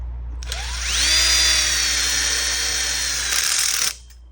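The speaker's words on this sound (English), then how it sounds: "Also going to get our screws in a 3-way corner here." A power drill drives screws into a corner of an outdoor kitchen frame, one sustained whine that ramps up in pitch, holds steady under load for about three seconds, then stops abruptly, close and loud.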